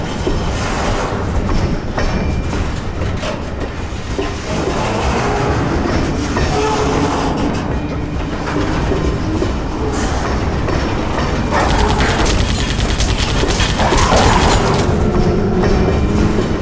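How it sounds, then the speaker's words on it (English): Train passing in the video game Vivisector: Beast Within, a loud continuous rumble with clattering wheels and occasional metallic squeals, sustained throughout. "Look at that fucking train."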